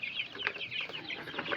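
Chickens cluck close by at a rural home in the Philippine countryside, a busy overlapping run of short clucks and murmurs with no pauses.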